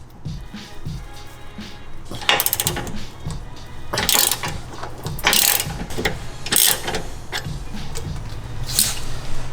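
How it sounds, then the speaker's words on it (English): A ratchet wrench with a 22mm socket works loose the control arm mounts on a Toyota Tacoma, giving close, repeated clicking ratchet bursts separated by brief pauses, with faint mechanical clatter between strokes. "you'll want to loosen the control arm mounts"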